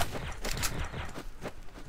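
Rapid gunfire in Counter-Strike: Source, a burst of several quick shots in close succession, moderately loud and slightly muffled, with fainter reports trailing off through the brief span.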